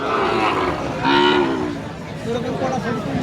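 A white hybrid Sahiwal cow at a busy city cattle market lets out a couple of loud, drawn-out moos close by, over a murmur of crowd chatter in the background.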